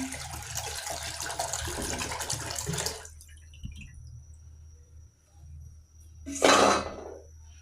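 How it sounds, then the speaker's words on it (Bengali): Milk pours steadily into a pot for about three seconds while making pudding on a gas stove, followed by quiet and a second short, louder splash of liquid. "এবার পাত্রে দুধ ঢেলে নিলাম"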